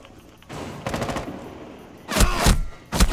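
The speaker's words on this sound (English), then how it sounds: "Crap, they're shooting." Gunfire in Rainbow Six Siege comes in separate bursts, a short volley near the start and louder, closer rounds later, with quieter gaps between them and no talking.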